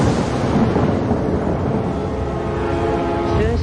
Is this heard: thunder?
yes